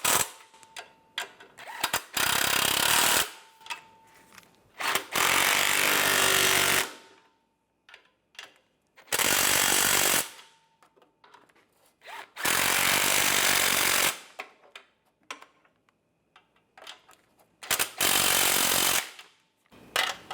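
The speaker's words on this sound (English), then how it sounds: "Make sure the flange is lined up and tighten those down." Flange bolts on the knock sensor of a 2010-2016 Cadillac SRX engine being tightened, with a power tool buzzing in five loud bursts of a few seconds each, separated by quiet gaps with small clicks and handling noises.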